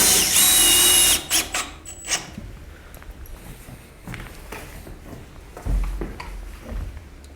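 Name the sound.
power drill driving screws into log kayak rack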